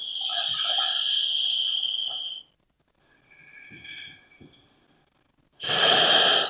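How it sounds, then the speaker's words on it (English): Ujjayi breathing, drawn through the nose with the throat constricted, comes as slow, close hissing breaths: a long exhale, a softer breath after a pause, then another strong one. "As you constrict the breath, you're funneling the breath through the nose and the sound at the throat."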